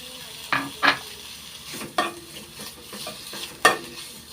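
Pork fat rendering in a pan at home, with a steady sizzle broken by several sharp scraping stirs of a utensil against the pan.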